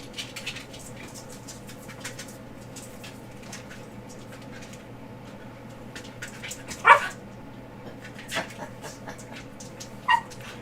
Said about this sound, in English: Don't sit like a bunny and bark at Daddy